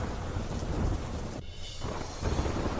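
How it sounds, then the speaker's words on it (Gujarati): Heavy monsoon rain pours over villages in rural Tapi, a dense steady wash of noise with thunder rumbling low underneath; it briefly thins for a moment before the downpour returns at full strength. "તાપીના ગ્રામ્ય વિસ્તારોમાં પણ ખાબક્યો વરસાદ"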